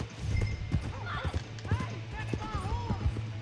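Horse hooves galloping in the Red Dead Redemption 2 western video game, a quick, close clip-clop rhythm with snorts and whinny-like calls over engine-like game sound, with people talking over it.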